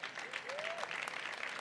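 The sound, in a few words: audience applauding prize winners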